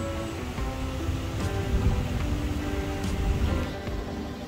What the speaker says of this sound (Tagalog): At eto na nga umuulan.